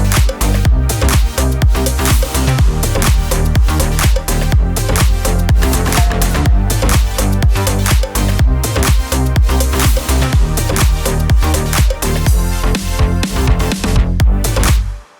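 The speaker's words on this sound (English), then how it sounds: "let's listen with the chord, which is my saw synth here" Bright saw-wave synth chords drive a dense, loud K-pop style beat, with punchy drums hitting in a steady rhythm and the full mix running continuously before cutting off at the end.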